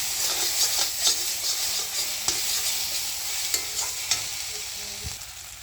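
Frying and stirring in oil in a pan while cooking a spicy puti fish curry: a loud steady sizzle with repeated scraping and knocking of a spatula against the pan, without speech.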